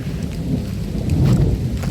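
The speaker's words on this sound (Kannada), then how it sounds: "ಮಳೆ ಮಾತ್ರ ಜೋರುಂಟು, ಚಂಡಿ ಆಯಿತು" Heavy rain falls outdoors while crepe jasmine flowers are picked, a dense steady hiss over deep rolling thunder rumble, loud and continuous with no talk.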